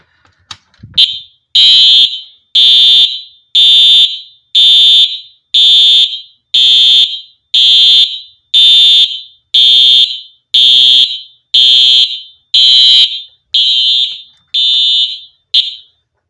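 A Simplex 4009 TrueAlert fire alarm horn sounds in standard march time: about fourteen loud, evenly spaced blasts at roughly one per second, each a harsh buzzing tone, heard close and on its own.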